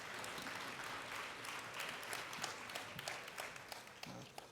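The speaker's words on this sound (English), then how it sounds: "Give them yet again another round of applause." A conference audience at a CBTU gathering claps steadily in a fairly faint, distant round of applause that holds evenly throughout with scattered sharper claps.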